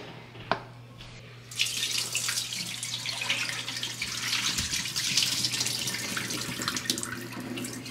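Running water from a sink tap pours steadily after a faint click, rinsing something clean. The gush is close and continuous, with small splashes and drips under the flow.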